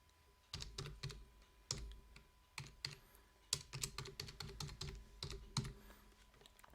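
Fingers type a username and password on a computer keyboard, bursts of quick close key clicks separated by short pauses, with a few sharper presses standing out.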